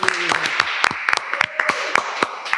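Sharp irregular hand claps sound from a small group at a Babe Podcast session in Ambon, a quick scattered burst of separate slaps rather than sustained applause, with a faint voice and a brief tone underneath.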